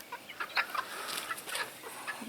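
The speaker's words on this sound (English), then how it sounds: "Polish chickens moved. They're in their new home. They're happy." Polish chickens settle into their new coop with soft, scattered clucks and brief squawks, several birds close by, irregular and fairly quiet.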